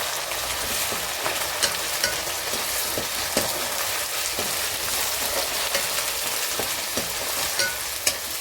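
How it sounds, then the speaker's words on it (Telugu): Onions and ginger garlic paste frying in a pan for paneer mint rice, giving a loud, steady, close sizzle with occasional soft stirring taps throughout. "ఇప్పుడు ఇందులో కొద్దిగా అల్లం వెల్లుల్లి పేస్ట్ వేసుకుందామండి. ఇది కాసేపు కొద్దిగా వేయించుకుందామండి"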